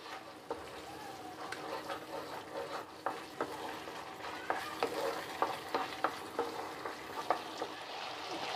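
A spoon stirs cashew paste into chicken Bukhara gravy in a pan, giving repeated scraping strokes over a soft, steady simmering sizzle.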